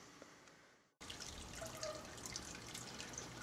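Water is poured over a plastic bag while making handcrafted beer, a steady splashing rush that starts abruptly after a quiet moment and continues at even loudness.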